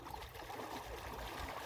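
Steady broadband rush of water flowing into a farm field for irrigation, a continuous gurgling trickle close by with no talk over it.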